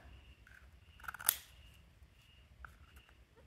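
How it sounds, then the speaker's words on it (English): Scissors working on an oyster shell give a few quiet, close crunching snips, with one sharper crack near the middle against a near-silent background. "use the scissors on part of that and then use the knife"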